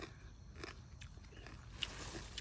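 Crunchy raw purple green beans, fresh from a July farm garden, being chewed close up with a few quiet crisp bites over faint outdoor background noise.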